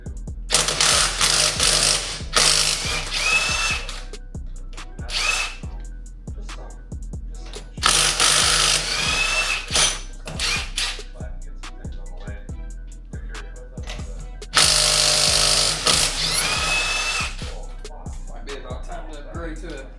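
Impact wrench removing large lug nuts from a BMW E63 during a rear axle swap, heard in three long loud bursts of hammering, each followed by quieter clanks and tool noises, with someone talking in between.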